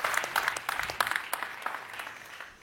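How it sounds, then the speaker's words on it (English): An audience at the Mercedes-Benz and Will.i.am CES 2024 event bursts into brief, dense applause that fades out over a couple of seconds. "let's give him a big warm round of applause"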